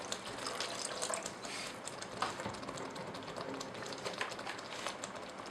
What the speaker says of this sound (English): Add enough water so that the chicken is covered